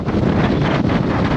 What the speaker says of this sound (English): Look at the wind blow.